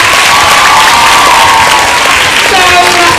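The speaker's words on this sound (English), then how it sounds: "Do you want to give them all a big clap for trying?" A school crowd at a talent show claps and cheers loudly, a dense, continuous wash of applause with shouts and children's voices mixed in, filling the whole stretch without a break.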